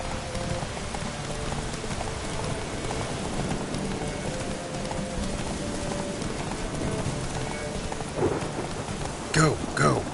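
Horse hooves pound at a gallop through steady rain in The Witcher 3, with rumbling thunder and a dense downpour, and a few louder bursts near the end.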